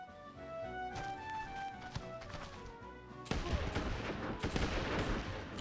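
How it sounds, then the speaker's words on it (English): Gunfire in the pirate-themed video game Sid Meier's Pirates!, a dense burst of cracking, noisy shots that erupts partway through over game music and keeps rattling to the end. "I don't know what's happening, but I hear a bunch of gunshots."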